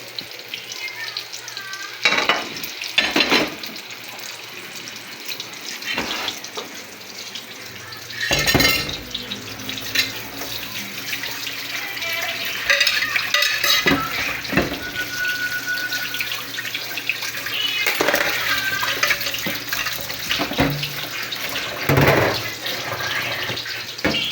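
Eggplant frying in a pan, a loud close sizzle broken by scraping stirs and clattering knocks, with water-like hissing throughout and no talk.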